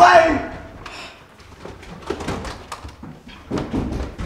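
Front door being knocked or opened in an old radio play of Arsenic and Old Lace, a few short thumps and clatters amid room noise, with voices speaking over them.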